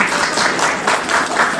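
Audience in a hall at an opening ceremony clapping for the host's mother, dense steady applause close and loud for a short stretch.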